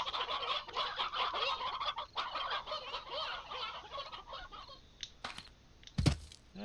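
Flocked chickens in the game Slime Rancher cluck in a thick, overlapping chorus for several seconds, then thin out into scattered clicks and a sharp thump near the end, with no one speaking.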